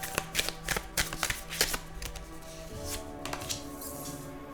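Tarot cards being shuffled by hand, a quick run of crisp riffling flicks and slaps that settles into softer shuffling, close and clear with no talking.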